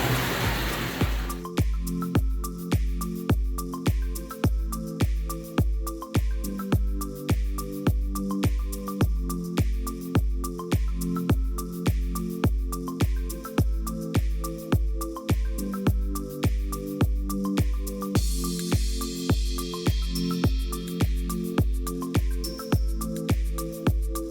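Rainwater running off a roof and pouring into a cistern, heard as a steady rhythmic stream of regular splashing pulses with a constant trickling wash and tonal gurgling underneath, close and sustained.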